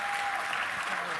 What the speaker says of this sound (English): Y'all give them a warm, warm round of applause.